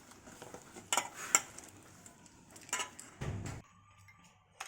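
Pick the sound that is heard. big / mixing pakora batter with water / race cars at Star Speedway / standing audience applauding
mixing pakora batter with water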